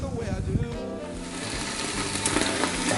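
Finely diced garlic, three cloves, sizzles and crackles steadily in a hot pan, a dense bright frying hiss that builds slightly over a few seconds with light stirring clatter.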